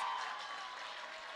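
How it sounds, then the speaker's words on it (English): Audience applause for the Round Rock Drums drum line at BASH 2023 forms a faint, steady wash of many hands clapping at a distance, with no voices standing out. "Let's give them a big round of applause"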